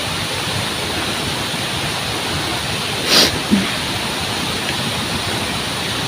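A forest waterfall after heavy rain gives a steady, even rush of falling water at close range, with one brief louder swell near the middle and no voices.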